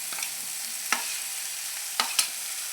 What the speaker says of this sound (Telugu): ఇలా వేసాక 10 నిమిషాలు మగ్గాలండి ఆయిల్లో.